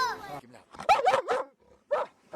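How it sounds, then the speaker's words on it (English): A friendly, affectionate dog gives short yips and whimpery barks mixed in among a person's voice, close and moderately loud with brief pauses between bursts. "She's a very loving dog."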